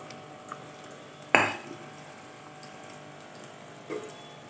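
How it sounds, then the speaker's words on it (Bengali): Hilsa fish pieces go into a thin, simmering fish curry in a pot, one sharp splash and clatter followed by a quiet bubbling background and a second softer knock near the end. "এবার সব মাছগুলোকে দিয়ে দিচ্ছি।"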